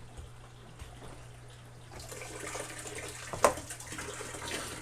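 Water pours out of a tilted aquarium sump while a 150-gallon tank is being moved, a steady rushing splash that swells, with one sharp knock or clunk midway.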